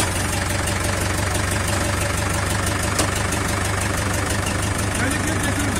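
A used, second-hand engine runs at a steady, loud idle. Its even rumble is close and continuous throughout, with no break.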